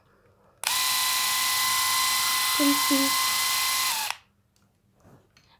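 A Braun electric hair removal device runs at a steady high-pitched motor whine for about three and a half seconds, close and loud, then cuts off; a voice speaks briefly afterward.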